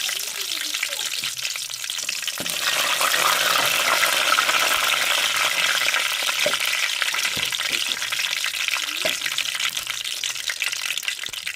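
Dried vattal frying in hot oil with fenugreek for small onion kara kulambu, a loud continuous crackling sizzle that swells after a couple of seconds, with occasional spoon taps and scrapes.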